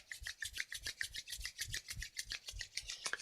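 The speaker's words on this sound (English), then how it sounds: "And rubbing the palm together." Palms rubbed briskly together during a Taiji Qigong Shibashi exercise, a quiet, steady back-and-forth swishing with about a dozen even strokes, close and alone.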